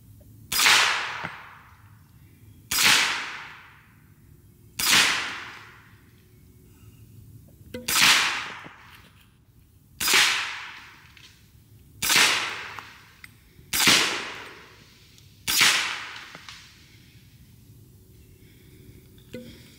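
Rifle firing 342 grain Punisher subsonic ammunition from Gorilla Ammunition in a 300 Blackout, with eight sharp shots spaced about two seconds apart, each followed by a short fading echo.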